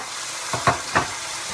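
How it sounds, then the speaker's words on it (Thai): Shrimp and asparagus stir-fried in a pan, with a soft steady sizzle under two or three quick scraping stirs of the spatula, close and fairly quiet. "ผัดไม่นานมันจะได้แล้วค่ะเนี่ย ก็ผัดตรงนี้ใกล้เลยค่ะ"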